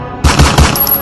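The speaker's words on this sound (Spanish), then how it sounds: "Rayos. Otro disparo más." Gunshot sound effects in a Spanish-language Loquendo apocalypse story: three sharp, loud bangs in quick succession, each with a booming low-end thump, followed by a fading ringing tail, with no speech.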